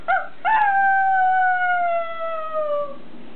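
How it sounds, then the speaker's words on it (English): A dog at home gives a wolf-like howl. Two brief yelps lead into one long, loud, steady howl that slowly falls in pitch and fades, heard alone indoors. "There's a crazy wolf in my house."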